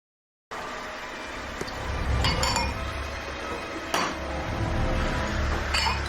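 Glasses clink together in a dinner-table toast, a few sharp bright taps spaced a couple of seconds apart over a steady low room hum, with no one speaking.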